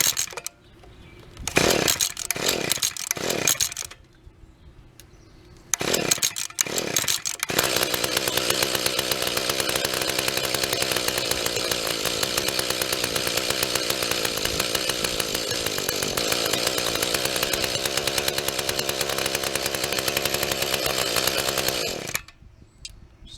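A Mantis 7225 tiller with an SV-5C2 two-stroke engine and an adjusted carburetor: several short pull-start sputters, then the engine catches and runs loud and raspy near the listener for about fifteen seconds before cutting out.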